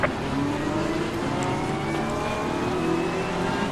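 Pack of GT3 race cars in a racing video game at the Nurburgring race start, engines droning and revving together in a steady, dense roar with rising tones.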